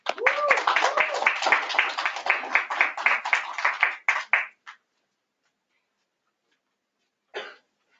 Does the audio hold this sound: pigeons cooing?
no